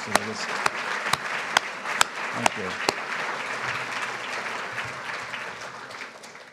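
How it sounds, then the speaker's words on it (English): An audience at a patient-focused medical meeting gives a sustained round of applause for panelists, steady and fairly loud, with a few sharper close claps early on and a brief spoken thanks over it. "I want to give another big round of applause for everybody who talked and the patient panelists"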